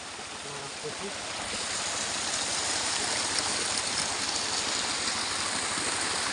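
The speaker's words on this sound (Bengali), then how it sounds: "ঝর্ণাটা ভাই" Steady rushing water from a waterfall and stream at Jaflong, a broad continuous roar that swells slightly after the first second and holds loud and close throughout, with faint voices briefly audible near the start.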